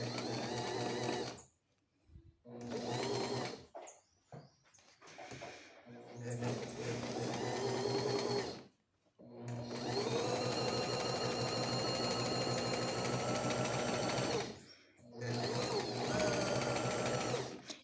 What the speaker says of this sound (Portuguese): Desce o pé calcador. E aí, você vai dirigindo o tecido.